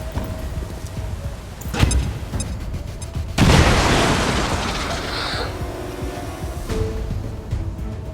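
A frag grenade goes off in XCOM 2, a sudden loud burst about midway that rolls into a long fading rumble, with earlier sharp thuds and game ambience around it.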